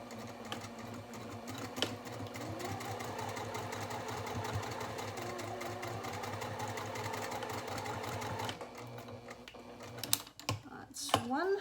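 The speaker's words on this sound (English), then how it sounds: "Now we're back at the sewing machine, and again we will be stitching on our mark to create this box corner." A sewing machine stitches a box corner with back stitching on a reusable fabric gift bag, running steadily and fairly quietly for about eight seconds before stopping, followed by a few handling clicks and rustles.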